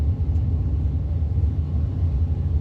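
A loud car engine rumbles at a drag racing track, a deep, continuous low roar filling the whole moment with no pauses or talk.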